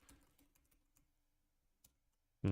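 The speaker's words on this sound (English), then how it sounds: "Oh, I'm typing it wrong." A computer keyboard is tapped in a quiet room during game development, a few scattered soft keystrokes early on, then a pause, one more click and a sudden louder burst at the very end.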